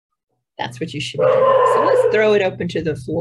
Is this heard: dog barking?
yes